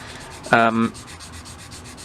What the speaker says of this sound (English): this roughness is not in the plastic, so we might have to just keep sanding